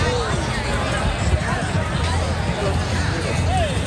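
A crowd out at Dolores Park in San Francisco on 4/20: dense, steady babble of many voices with scattered shouts, close and continuous.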